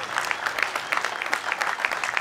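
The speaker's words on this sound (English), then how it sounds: "Give the sponsors a round of applause" A crowd applauds the sponsors at a bass fishing tournament award ceremony, a dense, steady patter of clapping from many hands throughout.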